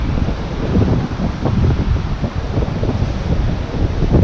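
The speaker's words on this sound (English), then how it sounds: "Now if the wind would just die down, be in business." Strong wind buffeting a microphone outdoors during metal detecting, a loud continuous low rumble with rushing, gusty texture and no voices.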